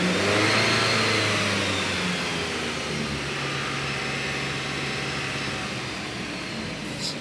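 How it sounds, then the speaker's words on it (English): 2008 Dodge Avenger engine revving during an alternator output check: a loud rise in engine pitch at the start that holds, then slowly winds down toward idle, close and steady with no talk. "Rev engine."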